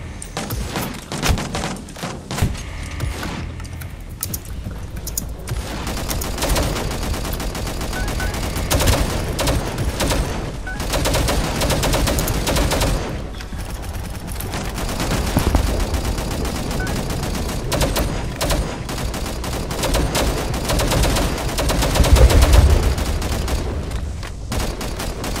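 Long stretch of steady suppressing gunfire in the sci-fi shooter Angels Fall First, dense overlapping rifle bursts with occasional thuds and booms throughout, at a moderate, continuous level.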